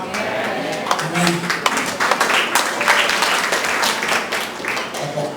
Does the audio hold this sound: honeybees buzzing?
no